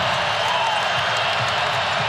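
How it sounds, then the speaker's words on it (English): A packed college basketball arena crowd roars in a steady, loud wall of cheering during an NC State vs. Virginia men's game, with no single voice standing out. "Now listen to this crowd."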